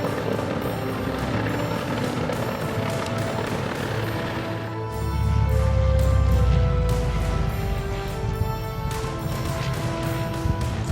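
A helicopter descends slowly toward firefighters on a narrow road, its rotor noise loud and sustained throughout, swelling and deepening as it draws nearer.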